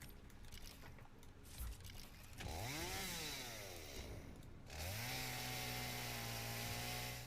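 A chainsaw cutting a tree in the video game Satisfactory revs up sharply, drops back, then climbs again into a sustained high whine, loud and close after a quieter opening.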